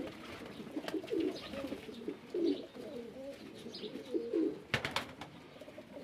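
Baku pigeons coo repeatedly in soft, low throaty rolls, close by, with a faint rustle and a brief clatter near the end.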